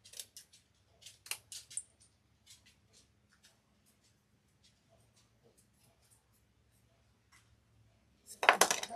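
Scissors snip at wreath material in a scattered run of short, close cuts, followed by a quiet stretch and then a louder burst of rustling and cutting at the end.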